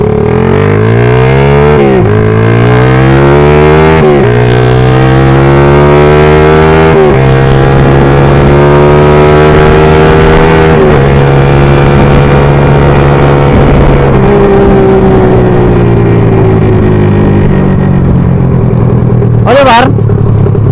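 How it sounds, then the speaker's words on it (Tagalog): Honda R150 motorcycle engine revving hard through normal gear shifts, with loud rising engine pitch that drops and climbs again at each shift, close and continuous. "So ayan par, pakinggan nyo yung normal shifting tayo"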